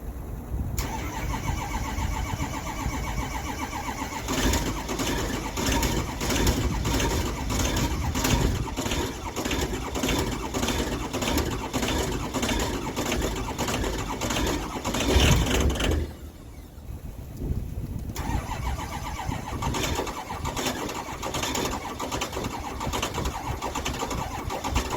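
A diesel truck with weak batteries cranks over and over in a steady, rapid starter rhythm, loud and close, pausing briefly around midway before the slow cranking resumes, with no voices present.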